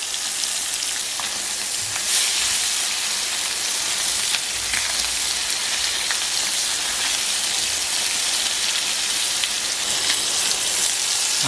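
Heavy monsoon rain in the Konkan pours down in a steady, dense hiss, continuous and loud throughout with no talking; a faint crackle of frying fish over a wood-fired clay stove may blend into the wash.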